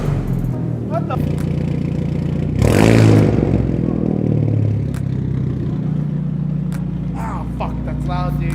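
A loud aftermarket exhaust on a Genesis car rumbles and revs, with one sharp throttle blip standing out, while nearby voices react over the engine.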